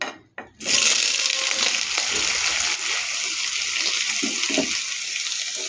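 Soybean chunks dropped into hot oil with salt and turmeric burst into a loud, dense sizzle after a brief quiet start, then keep frying as a steady, close hiss with faint stirring.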